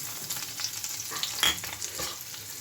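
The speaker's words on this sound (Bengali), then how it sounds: "রসুনটা একটু ভাজা হলে পেঁয়াজটা দেবো" Close, continuous sizzle of garlic and onion frying in oil, with scraping stirs and a louder burst of crackling midway through.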